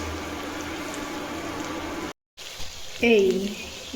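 Meat curry seasoned with garam masala simmers and sizzles steadily in a pan, a low continuous bubbling hiss that drops out briefly, then returns with louder clinks and stirring near the end.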